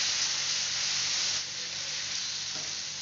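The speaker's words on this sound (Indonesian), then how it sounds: "Tumis semua bumbu sampai layu dan nanti masukkan irisan cabai." Shallots, garlic, pepper and other seasonings sauté in a hot pan with a loud, continuous hiss and sizzle that eases slightly partway through, heard close up with no talking.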